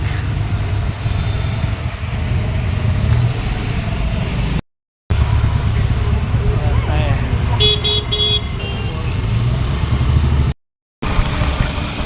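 Traffic rolls along the Mumbai coastal road near Worli, a steady roar of car engines with a brief burst of horn toots, heard from inside a moving vehicle while people talk.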